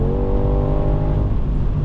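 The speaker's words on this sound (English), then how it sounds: "I think there's all natural exhaust noises, as we have no fake sound in the inside" A 2026 Mercedes G63 AMG facelift with its V8 pulling on the Autobahn, a loud, steady exhaust drone with layered engine harmonics heard from inside the cabin, constant throughout with no talk.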